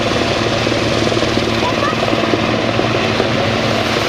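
A military helicopter flies sideways and backwards during an air force anniversary airshow at Ohakea, New Zealand, its loud, steady rotor and engine roar filling the whole clip without letup.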